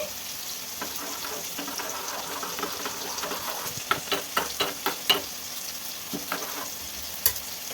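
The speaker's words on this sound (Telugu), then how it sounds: "ఆయిల్ వేడైంది తాలిపించి వేసాను జీలకర్ర మినపప్పు ఆవాలండి" Cumin, urad dal and mustard seeds sizzle steadily in hot oil for a tempering, with a series of sharp crackles and pops rising over the frying hiss, close and fairly loud.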